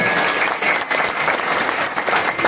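A village kirtan audience claps loudly in a dense, steady burst of applause from many hands, close and full throughout with no clear pauses.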